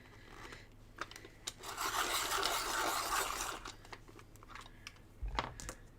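Colored pencils being sharpened, giving a rasping, grinding scrape that swells for a couple of seconds amid lighter clicks and handling noises, fairly close and quiet.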